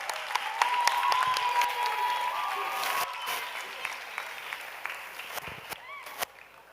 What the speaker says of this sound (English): If the audience can please give all students a round of applause.